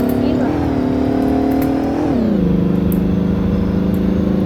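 A video-game car in a Greenville roleplay engine-revs with a steady droning pitch that dips and rises as it drifts, loud and close, with a brief surge midway and talk faintly present.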